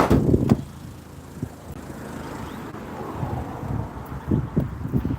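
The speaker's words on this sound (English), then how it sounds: "it is a little bit windy" Gusty wind buffets the microphone outdoors in low rumbling bursts, strongest at the start and again near the end, with a quieter steady wash in between.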